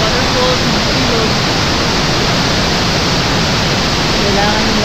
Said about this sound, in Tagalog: Ganito mga waterfalls, mga ilog.